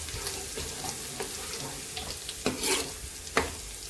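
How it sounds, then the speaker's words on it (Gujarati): Chopped drumstick vegetable sautés in a pan over a low flame, a soft continuous sizzle broken by scraping stirs and a few sharper clinks of the spoon near the end. "અને તેને સાંતળી લઈશું। ધીમા તાપે 2 મિનિટ સુધી આને થવા દઈશું।"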